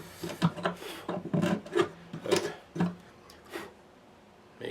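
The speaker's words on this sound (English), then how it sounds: "So just very lightly ream those bridge pin holes." A reamer scrapes the bridge pin holes of a 1950 Gibson guitar in short, close rasping strokes, several bursts with brief pauses, fading to quiet near the end.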